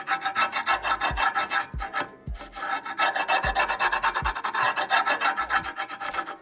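Excess grip tape being filed off the edge of a scooter deck, a rapid, rhythmic rasping of repeated close strokes with a few brief pauses and light knocks.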